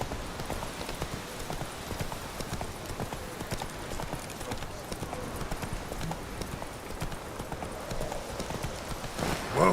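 Roach the horse from The Witcher 3 trots along with a steady, close clip-clop of hooves that keeps going the whole way, and a faint neigh near the end.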